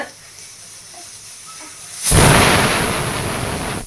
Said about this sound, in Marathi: आपला कुकर शिटी वाजली बघ